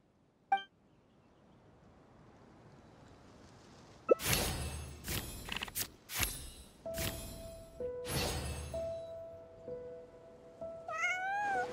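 Cat meowing in the Genshin Impact video game, several short meows over a bed of game music and whooshing effects that swell after a quiet opening.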